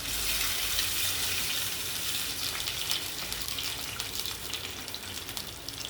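Steady rushing flow of water pouring continuously into a cooking pan, a hissy splashing stream that holds at an even level throughout with no talking.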